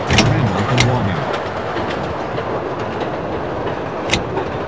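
Chicago Brown Line train bound for Kimball in the Railfan game rumbles steadily along the track near Randolph and Wabash, with a few sharp clicks and a faint announcement-like voice early on.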